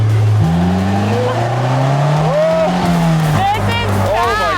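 A small, go-kart-like car being driven fast produces a loud, continuous engine drone with rising and falling pitch, with hints of tire squeal, while people talk over it.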